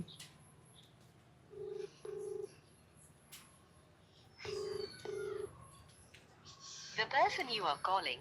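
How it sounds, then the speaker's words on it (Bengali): A phone call to a relative is dialed and rings out, with two pairs of ringback tones and faint background noise. A voice speaks at the end. "আমি ফোন করতাছি"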